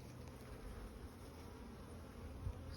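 Honeybees buzz steadily at a backyard beehive kept by a first-year beekeeper, a constant low droning hum of many insects, close and even in loudness throughout.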